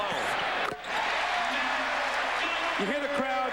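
A basketball arena crowd roars during an NBA game between the Sacramento Kings and Philadelphia 76ers, a loud sustained cheer with a brief dip, an announcer talking over it and a whistle-like tone near the end.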